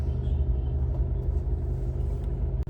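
Road traffic in Zirakpur, a steady low rumble of cars and engines heard continuously from inside a travelling vehicle, with a brief dip near the end.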